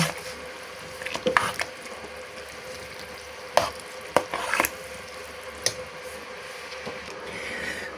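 Beans with vegetables being stirred in a pan for a winter preserve, with a few scraping clatters of the utensil standing out over a low, steady background hiss. The sound is soft and intermittent, and no one talks.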